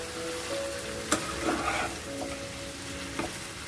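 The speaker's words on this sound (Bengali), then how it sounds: "দিয়ে ভালোভাবে মিডিয়াম ফ্লেমে সুন্দর করে মিক্স করে নেব" Chicken fries over a medium flame with a soft continuous sizzle, and a few sharp knocks and scrapes from a spoon stirring the pan sound close by, with no one speaking.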